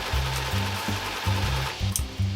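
Sewing machine stitching along the label edge of a smile-shaped fabric tote bag, fitted with a stitch-in-the-ditch presser foot; a loud, steady mechanical hum in short bursts with brief pauses between runs, heard alone.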